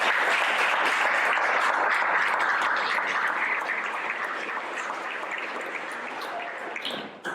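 An audience claps steadily to welcome a speaker to a talk on inclusive, sustainable development in San Luis Obispo, a dense sustained applause that tapers slightly toward the end.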